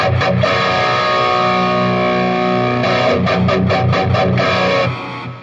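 An electric guitar plays through a Black Country Customs Monolith distortion pedal, thick saturated chords sustained loudly, then a run of rhythmic chugging hits before the sound drops away, with no talk.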